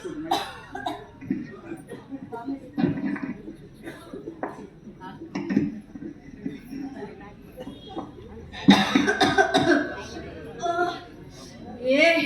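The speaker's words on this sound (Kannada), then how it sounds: "ಕೆಮ್ಮುನೆ ಕೆಮ್ಮು, ವಿಪರೀತ ಕೆಮ್ಮು" Repeated coughing from a performer in a Kannada stage play, several harsh bursts in an irregular rhythm, loud and close, mixed with other voices and some clatter, with a louder cluster of coughs near the end.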